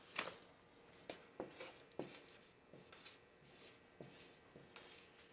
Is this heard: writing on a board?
yes